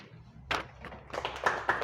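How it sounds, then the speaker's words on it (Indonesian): A school class claps hands in a short scattered burst of taps, near and uneven, with a faint voice in the background. "tepuk tangan dulu"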